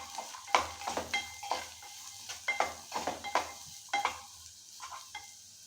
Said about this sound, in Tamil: பொடிசாக நறுக்கி வச்ச ஒரு பெரிய சைஸ் வெங்காயம் சேர்த்துக்கணும்.